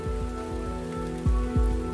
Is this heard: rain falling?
yes